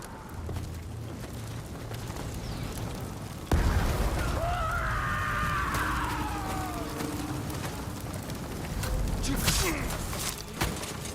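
In Ghost of Tsushima, a sudden boom sets off a fire, followed by crackling, roaring flames and scattered pops amid shouts and battle ambience, moderately loud.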